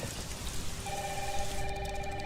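Heavy rain pours in a steady, dense hiss throughout, and partway through a telephone starts ringing on top of the downpour.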